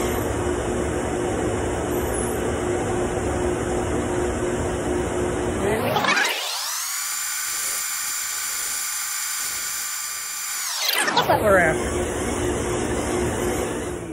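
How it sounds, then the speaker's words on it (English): A drum sander smooths thin walnut and other wood strips for a laminated acoustic guitar neck, a loud steady whine whose pitch and tone shift as each strip feeds through, then settle back. "we're going to take them over to the drum sander"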